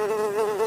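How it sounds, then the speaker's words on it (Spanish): A bee buzzes inside a classroom, a steady close drone with a wavering pitch lasting under a second and heard alone. "¡Profe, ha entrado una abeja en clase!"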